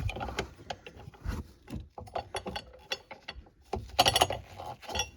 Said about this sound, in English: Install the hold down bracket. So you've got this hook on it that needs to fit into the slot right there.